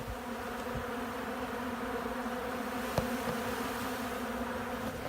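A steady, droning hum of many honey bees buzzing around an urban beehive in Rogers Park, Chicago, continuous and fairly close, with a faint tick or two in the background.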